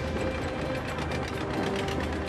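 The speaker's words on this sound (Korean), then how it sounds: "산소를 모으기 위한 엔진을 켜면" A small air compressor engine on a fishing boat runs steadily, supplying air to divers through a hose, with a continuous mechanical drone and rattle, loud and close, with no pauses.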